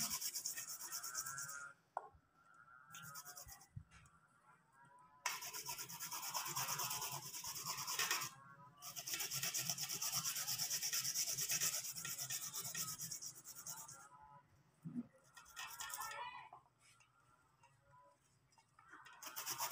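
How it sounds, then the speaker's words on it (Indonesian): Hunik bule plant being grated finely, a steady rasping scrape repeating in long strokes with short breaks between, close and fairly quiet, with no voices. "Kita terus memarut unik bulenya hingga benar-benar halus."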